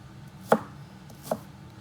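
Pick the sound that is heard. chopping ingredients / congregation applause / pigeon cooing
chopping ingredients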